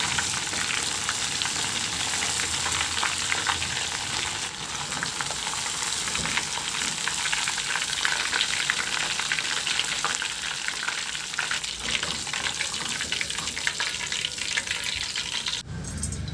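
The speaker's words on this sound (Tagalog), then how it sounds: "Prituhin lang natin yan hanggang sa mag golden brown o hanggang sa maluto." Food sizzles and crackles steadily in hot oil, a dense continuous frying hiss heard up close without pause.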